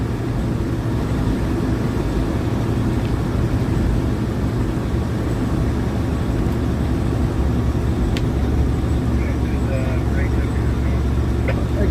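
A Freightliner truck drives with snow chains fitted, a loud, steady low engine and road rumble filling the cab with constant drone throughout, with occasional faint higher clicks.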